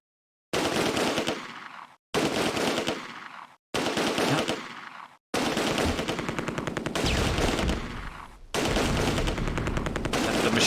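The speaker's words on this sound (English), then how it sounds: "the machine guns are gonna run out of ammo soon" Machine gun fire in Close Combat: A Bridge Too Far: loud, sustained automatic bursts in four to five long strings separated by brief silences, rapid close shots without any voices.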